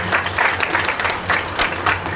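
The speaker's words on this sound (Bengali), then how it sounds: "ওর জন্যে একটু হাততালি হবে নাকি?" Brief burst of clapping and applause from a small group cheering for a parrot, rapid and fairly close.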